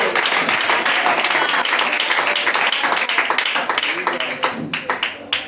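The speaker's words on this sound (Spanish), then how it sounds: "Denle ese aplauso al Señor, de la gloria al Señor." Congregation in a church service clapping and applauding together, a loud, dense burst of hand claps that starts at full strength and thins toward the end, with voices mixed in.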